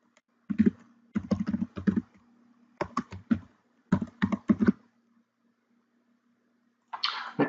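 Computer keyboard typing to rename a sketch, with several quick bursts of close, crisp keystrokes separated by short pauses and a softer rustle at the end.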